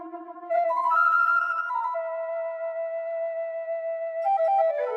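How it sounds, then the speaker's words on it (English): Two flute voices play a layered solo line in Logic, a native American flute patch doubled by a standard flute patch, holding long sustained melodic notes with breathy onsets, close and alone with no talking. "I actually used Logic's native American flute rather than their normal flute"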